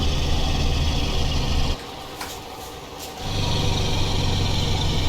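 A Mack RD-800 truck in American Truck Simulator runs with a loud, steady engine drone and Jake brake, briefly dropping in level for about a second and a half before the heavy rumble resumes.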